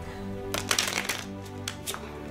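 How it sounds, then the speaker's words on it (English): A magician gives a deck of playing cards a fancy shuffle: a crisp riffling flurry of card snaps, then a couple of shorter riffles, close up over a steady low background hum. "And that is one fancy shuffle right there."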